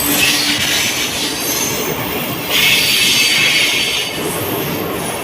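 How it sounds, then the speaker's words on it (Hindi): A Mumbai local train runs near Andheri station with a steady roar of wheels on rails, bursts of high metallic squealing and a continuous rumble, loud and close throughout. "ट्रेन रनिंग का"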